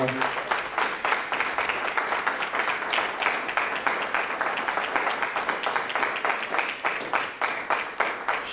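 A church congregation claps in a steady, fast rhythm, the applause dense and sustained throughout, with faint voices mixed in beneath.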